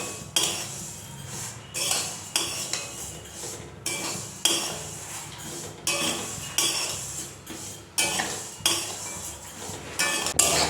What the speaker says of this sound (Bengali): আমি এই সিমইটাকেই কিন্তু মানে রোস্ট করে নিচ্ছি, এই খালি কড়াইতেই একটু লালচে লালচে হলেই নামিয়ে নেব।